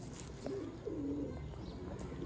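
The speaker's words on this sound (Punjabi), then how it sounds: "ਇਹ ਜੇ ਸਿਆਲਕੋਟੀ ਕਬੂਤਰ ਜਿਨ੍ਹਾਂ ਨੂੰ ਕਾਲੇ ਮੂੰਹ ਵਾਲੇ ਕਹੀਦਾ" Sialkoti black-faced pigeons coo softly in short, low, rolling phrases, fairly close, over a faint steady background hum.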